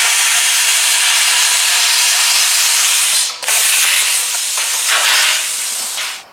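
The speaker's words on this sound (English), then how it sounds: "I'm going to go ahead and take my plasma cutter, and I will cut this out" A plasma cutter slices through sheet metal with a loud, continuous hissing roar that briefly cuts out, resumes and then tapers off near the end.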